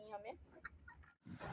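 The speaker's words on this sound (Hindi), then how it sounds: "ये घर का पला हुआ मुर्गा है, देखिए कैसे आके ऊपर बैठ गया है कासिम के" A home-raised domestic rooster makes a few short clucks close by, mixed in among someone speaking.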